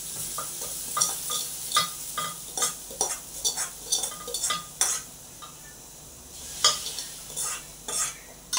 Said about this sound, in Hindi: एक मिनट में मेरे सावर में इसमें तड़का डाल दूँ।